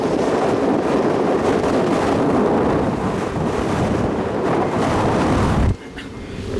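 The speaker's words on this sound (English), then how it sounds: "The wind showed up about 4 hours ago." Strong gusting wind buffeting a sailboat close-reaching toward a marina in misty northwest weather, a loud continuous roaring rush that cuts sharply lower near the end.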